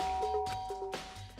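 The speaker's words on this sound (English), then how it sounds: "I pressed the doorbell," A doorbell rings in the Danganronpa Trigger Happy Havoc video game, a soft two-tone electronic chime that sounds twice, clean and fairly quiet with no talk.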